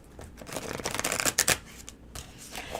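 Tarot cards being shuffled by hand, a quick run of close riffling and flicking bursts that swell and fade over a few seconds, with no talk.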